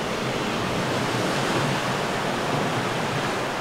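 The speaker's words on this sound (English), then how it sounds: "Right behind me is the ocean." Ocean waves at night below a cruise ship balcony, a steady broadband wash of surf noise that is continuous and fairly loud, with no distinct breaks between waves.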